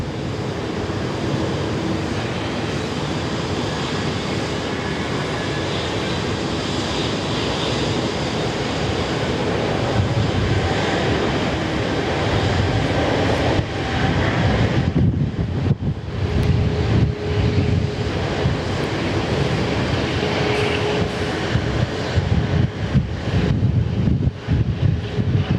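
An ANA airliner rolls for takeoff on runway 16 right at Sydney Airport, a broad, distant roar of jet engines mixed with wind buffeting the microphone, swelling slightly over the second half.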